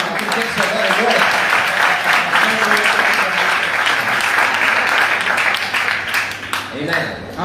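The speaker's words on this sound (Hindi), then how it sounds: "जोरदार तालियां बजा रहे थे" A church congregation applauding loudly, dense continuous clapping from many hands that carries on steadily and thins slightly near the end, with voices mixed into the crowd noise.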